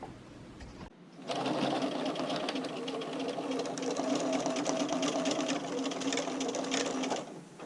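A sewing machine stitches a bra strap, running in a steady, fast mechanical whir at close range for several seconds after a brief quiet start, with no talking.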